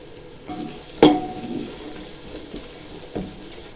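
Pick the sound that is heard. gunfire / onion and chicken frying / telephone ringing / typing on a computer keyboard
onion and chicken frying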